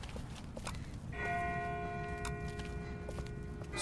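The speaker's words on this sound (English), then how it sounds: "That's not the same bell as before. This one's further off." A church-like bell rings from a distance in The Walking Dead video game episode 4, a sustained resonant tone that lingers over low ambient rumble.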